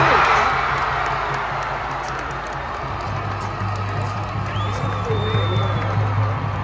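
A stadium crowd keeps up a steady roar of cheering through a penalty shootout between Australia and Egypt, broad and continuous, with a whistle-like tone rising briefly near the end.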